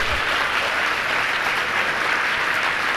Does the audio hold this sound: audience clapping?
yes